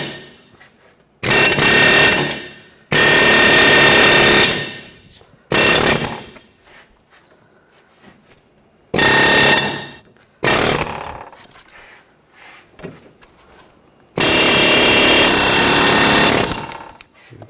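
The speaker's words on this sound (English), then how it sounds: "Now I'm switching to the air chisel." Pneumatic air chisel hammering off the ball joint rivets on a 2013-2019 Ford Escape front lower control arm, loud rapid chattering in several bursts of a second or more separated by short pauses.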